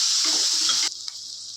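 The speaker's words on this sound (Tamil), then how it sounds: "இப்போ பாசி பருப்பு அதை எடுத்து வச்சோம் இல்லையா, அதை வாஷ் பண்ணிவிட்டு அதை போட்டுக்கலாம்." Water from a tap runs loudly as moong dal is washed, a steady gushing rush that cuts off abruptly partway through, leaving a quiet drip and faint trickle.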